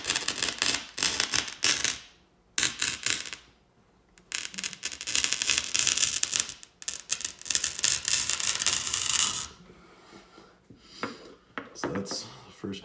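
Cutter scoring a line under heavy downward pressure, a harsh gritty scraping in long continuous strokes broken by brief pauses, close and loud, with softer scratches near the end.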